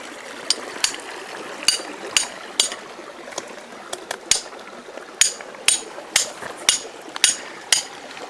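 Sharp metallic hammer strikes on a rock with no natural cracks, about a dozen irregular blows over several seconds, close and distinct, with no one talking.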